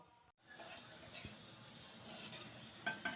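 Soft scraping and stirring in a pan with light metallic clinks of a spoon, a faint sizzle underneath, close and quiet.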